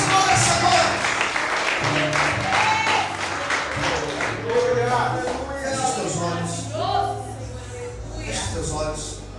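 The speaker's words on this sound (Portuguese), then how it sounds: "Aplauda o Senhor nessa noite." Church congregation applauding at an evening worship service, a sustained wash of clapping that runs the whole stretch while a preacher keeps speaking over it with music beneath.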